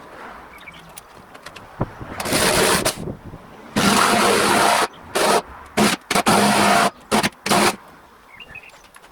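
Removing two T30 bolts from underneath the rear bumper of a Mk1 facelift Volkswagen Tiguan R-line, with several loud, harsh bursts from a powered driver separated by short pauses, close up.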